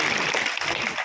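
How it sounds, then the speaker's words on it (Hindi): Children in a school classroom clap together for their teacher, a dense, continuous burst of applause filling about a second at steady loudness, with no voices standing out above it. "मैम के लिए दोबारा ताली।"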